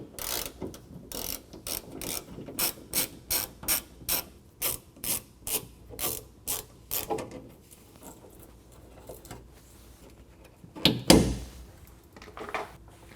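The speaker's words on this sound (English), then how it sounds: "We're going to remove these 3 screws." 7mm socket ratchet backing screws out of plastic wheel-well trim on a 2021 Ford F-150, a close run of rapid rhythmic clicks in evenly spaced bursts, then a pause and a single louder clunk of handling.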